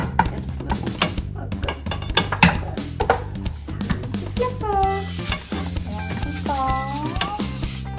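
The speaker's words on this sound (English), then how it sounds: "we are just browning up this hamburger" Seasoned ground beef browns in a pan while a utensil scrapes and clatters against it in irregular, close knocks and scrapes, with voices and other sounds mixed in.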